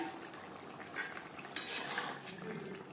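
Fried bele fish stirred into curry gravy in a pan, with faint scraping and clinking of a metal utensil against the pan amid a low background hiss.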